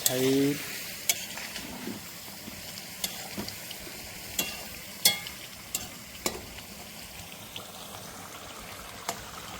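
Duck meat curry stir-fried in a pan, village style: a constant low sizzle broken by repeated sharp scrapes and clatters of a spatula, close and fairly loud throughout.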